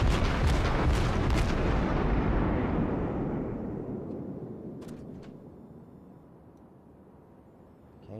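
Heavy naval gunfire from a warship in a video game, a dense roar of several booming shots at the start that fade into a long rumbling decay, with a few faint sharp pops later on.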